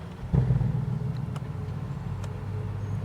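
A 2021 Porsche Cayenne Turbo S E-Hybrid in Sport Plus mode gives a deep engine burble that swells briefly with a throttle blip, then settles into a steady low rumble, heard close with no talking.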